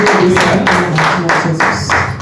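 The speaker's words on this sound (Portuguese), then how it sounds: "Uma salva de palmas para o nosso Senhor nesta noite." A church congregation applauds together in a steady, dense burst of clapping that swells and fades in several waves, close and loud, with no talk over it.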